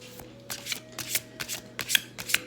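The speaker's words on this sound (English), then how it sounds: "I'll shuffle and pull 3 cards from each deck to form 3 piles." Tarot and oracle card decks being shuffled by hand, a series of crisp riffling bursts in an irregular rhythm, close and clear against a quiet background.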